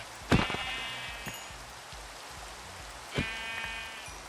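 Sheep in the Minecraft video game give two sharp, synthetic bleats, one near the start and one later, over a soft, steady rain-like hiss.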